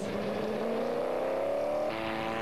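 Corvette race cars at Daytona test days roar past at a distance, a rising engine whine that shifts pitch as they go by, moderately faint.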